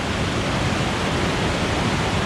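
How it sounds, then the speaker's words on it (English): A waterfall pours down a fault in the rockwork on an English fell, giving a close, steady, unbroken rushing roar with no voices. "But this waterfall,"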